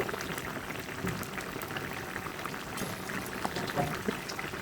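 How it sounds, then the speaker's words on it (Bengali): Pieces of fried hilsa fish go into a simmering curry with cucumber, giving a steady bubbling, sizzling wash with soft liquid movement throughout, close and continuous with no talking. "এখন আমি ভেজে রাখা ইলিশ মাছগুলো দিয়ে দিচ্ছি"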